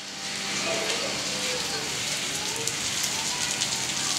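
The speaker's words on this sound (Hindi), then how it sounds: "बारिश हो रही है" Rain falls steadily outside a home, a dense, even hiss of drops on surfaces that stays constant and fairly close, with scattered louder patters.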